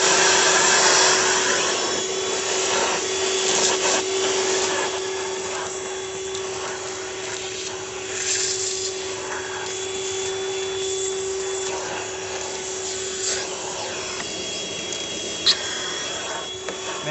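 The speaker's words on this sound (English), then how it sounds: "So we're gonna vacuum up chipmunks and mice and stuff that got in." A Ryobi 18V cordless 1-gallon shop vac sucking up debris in a country building, a steady whine with a constant motor hum and scattered rattles and scrapes from material being drawn in.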